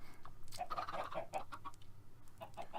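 Chickens in a video game cluck steadily as they crowd into a corner, with a run of close, repeated clucks over a low background hum and no talking.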